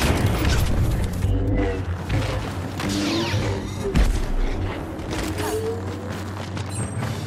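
Battle explosions from Star Wars Battlefront 2 on Xbox One, with heavy booms and a sharp blast midway over a continuous rumble of combat and mechanical noise.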